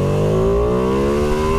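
A Ducati Panigale V2 motorcycle engine revs hard under throttle on a wet road, a loud, close, rising howl with a steady climb in pitch across the whole short stretch.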